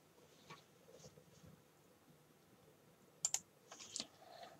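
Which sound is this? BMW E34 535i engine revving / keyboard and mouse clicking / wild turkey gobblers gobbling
keyboard and mouse clicking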